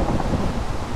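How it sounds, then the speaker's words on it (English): Thunder rolling through a Minecraft thunderstorm, a loud sustained low rumble filling the whole second with no voices over it. "Didn't you hear the thunder?"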